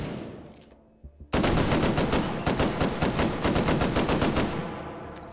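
Rapid automatic gunfire from a gun in the VR game Hot Dogs, Horseshoes & Hand Grenades, on a tower custom map: a few faint clicks, then a loud, dense burst of fast shots running steadily for about four seconds with no talk.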